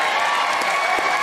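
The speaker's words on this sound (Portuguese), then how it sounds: "galera aplaudindo" Crowd applause at a live show, steady dense clapping filling the short moment, fairly close and loud with no distinct voices standing out.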